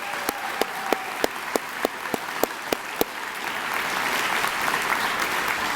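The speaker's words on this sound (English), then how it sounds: "one more round of applause for our recipients today" Applause for award recipients at a middle school 8th grade awards program: a few loud, evenly spaced claps ring out first, then the whole crowd joins in a steady wash of clapping.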